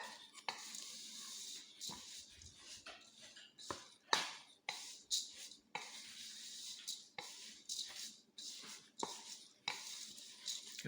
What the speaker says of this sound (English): We're going to mix it properly.